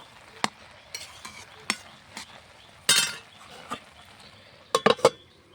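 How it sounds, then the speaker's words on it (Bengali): Turmeric stirred into food cooking in a pot: sharp spoon clinks and taps against the pot's side, scattered across a quiet stretch, with a denser cluster of knocks near the end. "সিদ্ধ হলে সুন্দর করে ঘুটে নেব।"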